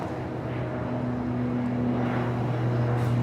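Aer Lingus airliner at Los Angeles airport, a steady low engine drone with sustained tonal hum, moderately loud and even throughout.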